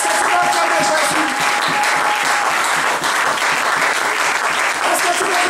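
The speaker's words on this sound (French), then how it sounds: "Est-ce que tu peux acclamer Jésus?" A church congregation applauds loudly and steadily throughout, a dense wash of clapping with crowd noise mixed in and no pause.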